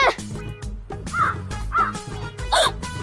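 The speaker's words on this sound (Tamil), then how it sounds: "அட அங்க ஒரு காக்கா உட்கார்ந்துட்டு இருக்கே." A crow caws several times in a row, loud and close, each harsh call spaced about half a second apart in a comedy miniature scene.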